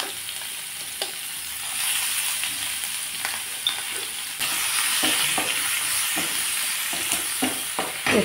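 Chopped onion and bay leaves crackle and sizzle steadily in hot oil for tempering, with a constant bright frying hiss and scattered clicks of stirring against the pan, close and fairly loud throughout.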